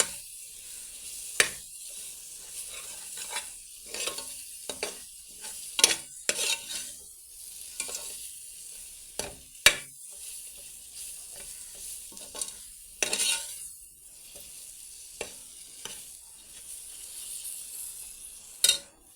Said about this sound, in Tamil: மசாலா நல்லா மிக்ஸ் ஆகிற அளவுக்கு நல்லா கிண்டி விட்டுக்கோங்க.